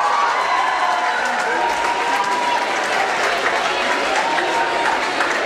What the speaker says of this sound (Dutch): En geef ze een applaus.